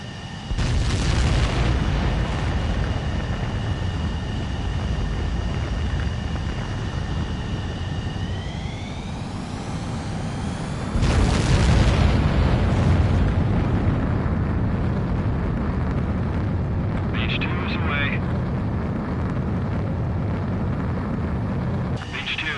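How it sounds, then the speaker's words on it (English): Fighter jet engines roar and spool up for takeoff in Ace Combat 7, a steady loud rumble with a rising whine, then a heavy afterburner surge midway that keeps roaring, with a voice speaking over it. "Mage 2, begin takeoff sequence. You're cleared for launch."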